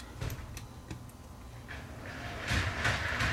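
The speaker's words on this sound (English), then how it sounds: "I think that was the sound of them throwing them in the back of his truck" Several bangs and clunks of VCRs tossed into a truck's cargo area, with a louder clattering burst near the end.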